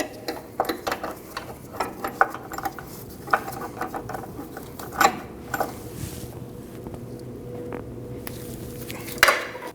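A hand tool ratchets to tighten the front inner tie rod on a 2003-2008 Subaru Forester, giving close metallic clicks in uneven bursts with occasional louder clanks.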